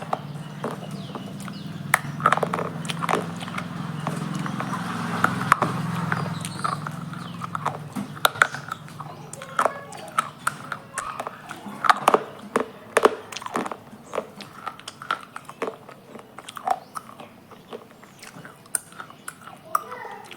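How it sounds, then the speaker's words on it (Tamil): Crunchy red pencil-shaped snack being bitten and chewed, with sharp, irregular crackling crunches close up throughout, with no one talking. "ரெட்டு மை ஃபேவரட், நல்லா க்ரன்ச்சிங்."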